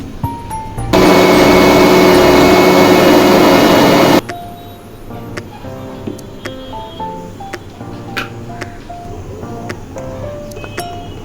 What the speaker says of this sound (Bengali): এই সমস্ত ইনগ্রিডিয়েন্টস আমরা ভালোভাবে মিক্সিতে পেস্ট করে নেব।